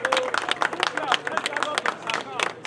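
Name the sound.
crowd clapping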